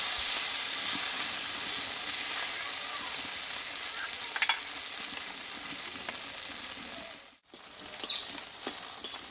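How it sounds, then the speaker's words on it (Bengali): Flour and potato tiffin snacks frying in oil make a steady, close crackling sizzle with light pattering pops. The sound cuts out briefly, then the bubbling returns. "দেখো বন্ধুরা এখানে কিন্তু টিফিনগুলো আমার সব ভাজা হয়ে গেল"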